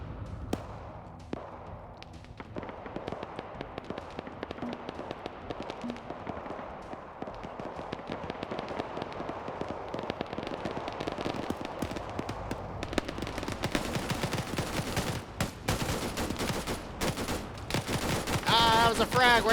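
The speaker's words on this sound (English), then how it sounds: "That was a frag." A frag grenade goes off in the Arma 3 combat game amid a dense stretch of gunfire and battle noise, the sharp blasts and crackling growing louder and busier toward the end.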